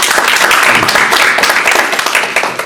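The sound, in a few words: applause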